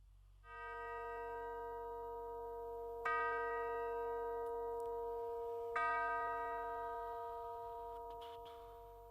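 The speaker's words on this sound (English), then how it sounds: "Temple chimes" Temple chimes sound at a Unity Temple church service, three struck tones a few seconds apart, each ringing clear and long with a slow sustained decay in a quiet room.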